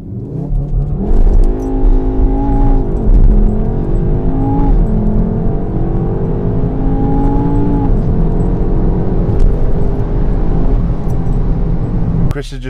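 A tuned Stage 1 VW Golf R 7.5 Estate launching hard, its engine note loud and close as it climbs through several rising pitch sweeps between gear changes, with a constant road and cabin roar underneath.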